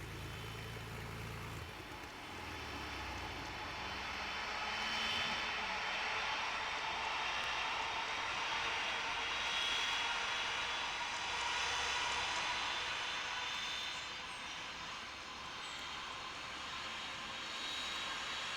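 A jet airliner taxis in an air traffic control game, its engine a steady, continuous roar that swells gently in the middle and eases toward the end, with no talk over it.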